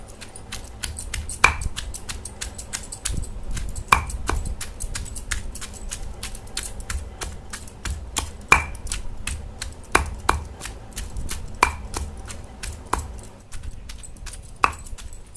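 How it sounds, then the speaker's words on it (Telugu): Green chillies being pounded in a mortar for a village-style okra chutney, with repeated sharp rhythmic thuds and clicks at an uneven pace, close and fairly clear with no talk. "ఇప్పుడు ఫస్ట్గా పచ్చిమిరపకాయలు వేసి దంచుకుంటాము"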